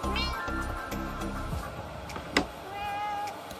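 A house cat meows and caterwauls close by, with drawn-out whining calls and a few sharp clicks and rustles in the background.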